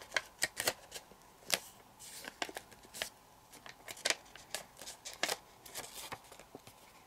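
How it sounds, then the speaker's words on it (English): Sheets of paper are creased and folded for an origami light switch, giving close, crisp snapping crinkles in irregular bursts over a quiet background. "And now reclose, and you're going to make the new fold right there."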